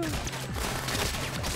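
Rapid automatic gunfire bursts from a video game machine gun in Rounds, dense and continuous across the clip with game effects layered over it.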